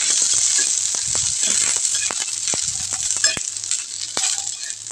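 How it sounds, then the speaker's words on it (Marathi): Green chillies roasting in a little oil on a griddle over a gas flame, a constant high sizzle dotted with sharp crackles, pops and utensil clinks, close and busy with no talk. "मी गॅस तव्यावर ठेवून ते छान असं परतून घेते भाजून घेते मिरच्या"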